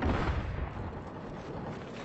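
Gunfire and booming blasts in the Killzone Shadow Fall online multiplayer shooter, a dense, rumbling burst that is loudest at the start and then settles into a steady low roar of distant combat.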